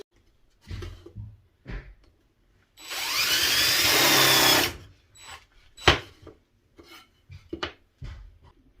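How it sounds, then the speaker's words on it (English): A drill bores a screw hole with a countersink into wood while a shelf goes into an alcove, a single whirring burst of about two seconds framed by scattered clicks and knocks of handling. "It drills a hole through the wood and then it makes a little divot for the screw head to go into."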